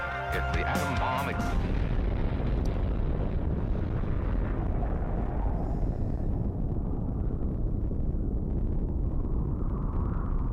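Dense, roaring explosion rumble within a played song, loud and sustained for several seconds after a short musical opening, with deep low-end booming throughout and no talking.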